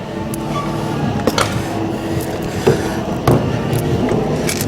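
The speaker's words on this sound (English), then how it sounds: "So now we can go ahead and put the screws back in," Screws go back into an arcade driving game seat, with faint ratcheting and metallic clicks and clunks over a steady background hum.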